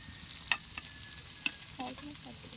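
Shredded cabbage fries on a large tawa for a rohu fish recipe, a soft steady sizzle broken by a couple of sharp metallic clinks and some light stirring scrapes, with no voices.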